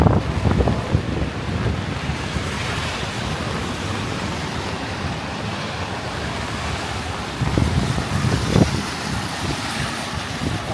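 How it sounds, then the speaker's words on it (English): Strong wind roars across the microphone on Yonge Street in Willowdale, Toronto, a constant loud rumbling buffet with gusts swelling near the start and again toward the end. "A little reprieve with the wind at my back."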